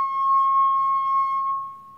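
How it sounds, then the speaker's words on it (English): A wet finger rubbed around the rim of a wine glass sings a pure, steady ringing tone that holds for nearly two seconds before softening, clear and close with no voices. "and then I run my finger around the wine glass"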